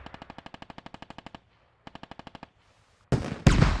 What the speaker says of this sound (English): far distance shot again